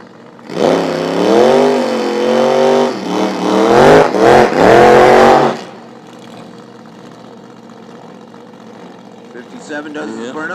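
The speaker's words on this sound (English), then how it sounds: "Does his burnout, comes to a stop." A nitro drag racing car does a burnout at Toronto Motorsports Park, its engine roaring loud and rising in pitch for about five seconds before dropping to a lower idle rumble.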